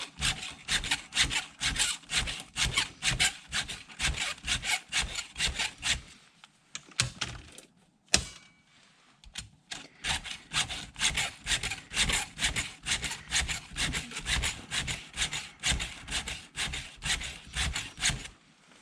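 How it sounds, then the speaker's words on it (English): Rhythmic rasping strokes of a round file pulled upward across chainsaw chain teeth, a fast steady run of close scrapes, a brief pause with one sharp knock, then the strokes resume at the same pace. "we put our bottom file, round file, against the tooth, and we're just going to do the same thing"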